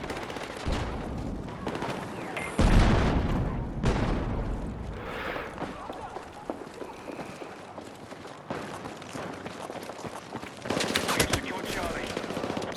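Battlefield 6 gunfire: dense automatic bursts and loud booms come in clusters, with a strong blast near the start and another heavy burst late on, amid a constant noisy battle din.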